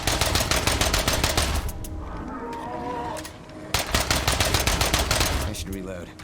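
Rapid automatic gunfire from a weapon in a video game rattles in dense, loud bursts. A quieter lull with other game sounds comes in the middle before the firing resumes.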